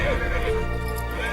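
A horse gives a loud, close whinny, a quavering neigh that falls in pitch and runs for most of the moment, with faint hoof clatter beneath.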